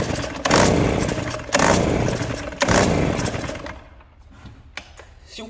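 A Stihl BR 430 backpack blower with a leaking carburetor revs up in three loud, rough bursts, each surging and falling back, then sinks to an uneven low idle with faint sputters near the end.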